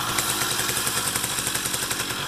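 A Riga 13 moped's small two-stroke engine revs gently near the mic, a steady buzzing drone with a quick pulsing beat and slight rises in pitch, heard alone without talk.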